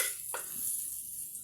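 Garlic sautéing in a pan gives a steady, quiet sizzle, broken by two short bursts of scraping or stirring, one near the start and one at the end. No one talks.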